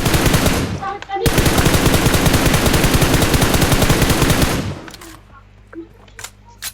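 Loud close automatic gunfire in the video game PUBG, a rapid sustained burst of shots lasting several seconds after a brief opening volley, followed by a few scattered distant shots.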